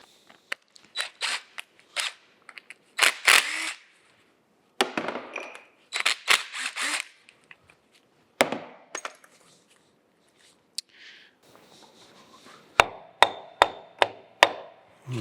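Metallic clicks, taps and short scraping bursts from a socket wrench at work removing a plate on a Monarch 612 lathe carriage, in irregular close bursts with brief pauses and a quick run of sharp knocks near the end.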